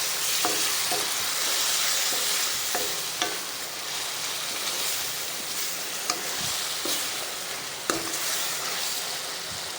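Paneer bhurji sizzles and fries steadily in a hot pan as water is poured in, with occasional stirring clicks and scrapes of a spoon against the pan over a continuous hiss.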